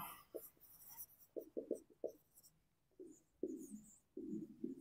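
A pen scratches across paper in short close strokes and bursts, pausing between words, quiet and alone as someone writes out an accounts answer.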